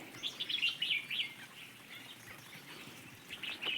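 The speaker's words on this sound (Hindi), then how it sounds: "देखो चिड़िया दिखाता हूँ दोस्तों आपको जंगलों के बीचों बीच।" Birds in the middle of a forest give quick, repeated chirps and tweets in short bursts that come and go. The calls are faint and sound fairly distant over quiet background.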